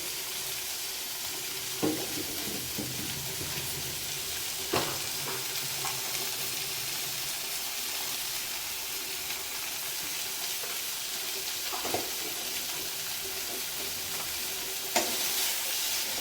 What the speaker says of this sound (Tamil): தக்காளி நல்லா வதங்கணும் நல்லா தக்காளி வதங்கிடுச்சு